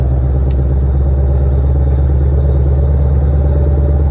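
A stock 2020 Shelby GT500 runs loud and close with a dense, steady rumbling engine note and a rapid throbbing pulse, with no talking over it.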